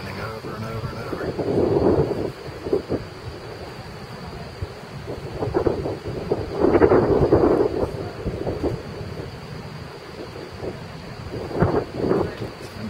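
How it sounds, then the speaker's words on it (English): Rumbling thunder rolls through a big tornado-producing thunderstorm with rain, swelling in several loud low surges over a steady background wash. "Tornado and a pretty big thunderstorm heading just north of us."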